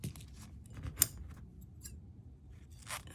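Scissors snipping around a mat board while finishing a round ornament: a couple of faint, brief cuts over quiet room tone.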